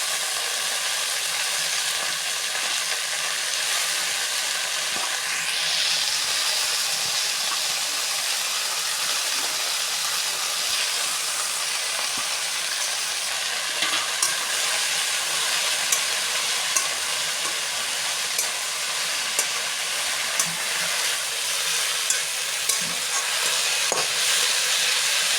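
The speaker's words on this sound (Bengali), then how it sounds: "এবার শাকটা দিয়ে দিচ্ছি" Water spinach greens fry with onions in a hot pan, a loud continuous sizzling hiss with occasional stirring scrapes, close up and steady without talk.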